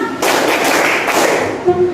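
A classroom group of teachers claps in unison for a clap chant, a brief burst of quick, dense claps that fades, followed by a short spoken voice.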